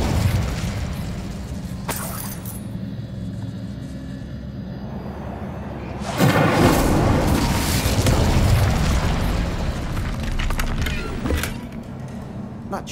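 A blast from the Incendio fire spell in the Hogwarts Legacy video game, a loud booming whoosh of flame and crackling debris that rises midway and lingers over steady game ambience.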